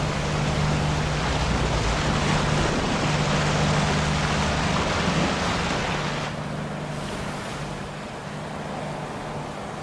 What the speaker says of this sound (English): I set it right by the river, with a waterfall view